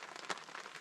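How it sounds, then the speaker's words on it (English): Rain falls on a roof top tent at a camp, a soft, steady hiss with a few faint drop taps, fairly close and unbroken by talk. "Rain hasn't stopped."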